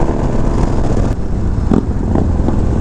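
A Harley Lowrider ST motorcycle accelerating on a group ride, heavy loud engine roar and rushing wind close to the rider, with brief rises in throttle and no talking.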